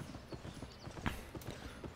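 Horses in the Albion Online video game clip-clop in a quick, steady run of hoofbeats, faint and quiet with no talk over them.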